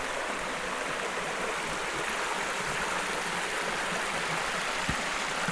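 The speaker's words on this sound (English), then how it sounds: "And of course we have this babbling brook." A babbling brook flows beside a winter campsite in the Blue Ridge Mountains, giving a steady, soft rushing and trickling wash of water with no talking over it.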